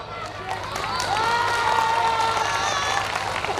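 A crowd at a stand-up comedy show at the Araria Literary Festival 2024 claps and murmurs in a moderately loud, building wash of applause, while a performer's voice carries clearly over it.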